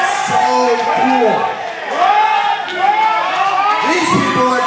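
Wrestling crowd at a live event cheering and shouting in repeated swelling waves, loud and close, with a short lull midway before the voices surge again.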